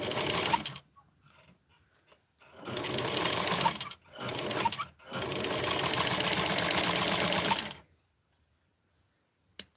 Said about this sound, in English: I go ahead and sew it in place